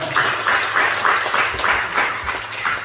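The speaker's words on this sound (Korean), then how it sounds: "우리 박수 한번 칩시다." A church congregation claps in a loose, steady rhythm of distinct beats, fairly close and continuous, with no speech over it.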